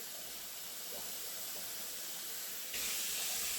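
Water pours steadily into a pot of lasagne cooking on the stove, a continuous hissing, splashing stream that grows louder and brighter near the end.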